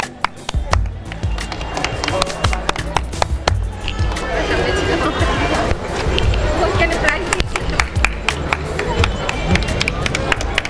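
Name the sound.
crowd clapping at Durga puja award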